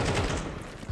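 Gunfire in Counter-Strike, a dense burst of game shots filling the whole short moment, loud and continuous with a sharper hit at the very end.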